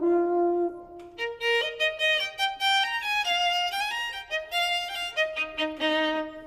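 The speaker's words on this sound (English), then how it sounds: "The French horn sounds like this." A violin plays a bright, melodic line of shifting sustained notes, clear and alone.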